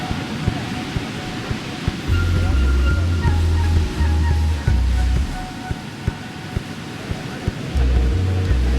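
Surf rolls and washes steadily at busy Ipanema Beach in Rio de Janeiro, with a broad, constant roar, faint crowd murmur and background music thumping in the low end.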